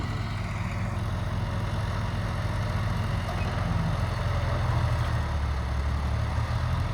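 A modified John Deere 5055 tractor fitted with an inline pump runs at a steady idle, a continuous low diesel rumble close by with a faint mechanical whine above it and no voices.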